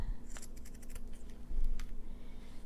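Scissors trim paper and lace for a handmade fall paper bag album, giving a short run of close, crisp snips over a steady low room hum.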